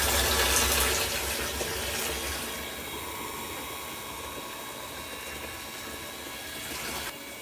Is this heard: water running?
yes